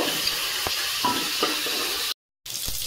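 Chicken pieces frying in hot oil in a pan as they are stirred, a steady bright sizzle with a few soft scraping stirs and clinks, broken by a short gap of silence.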